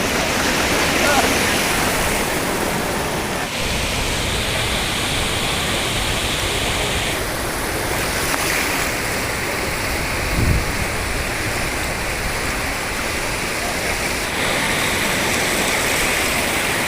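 Steady, heavy rain pours down on a seashore at night with a constant roaring wash of water, like surf under a downpour, continuous and fairly loud throughout.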